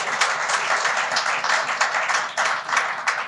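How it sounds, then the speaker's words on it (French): Applause from an audience at a talk on judicial reform, with dense clapping in uneven swells rising and falling, fairly close and continuous. "je demande un applaudissement spécial pour mes camarades Avengers"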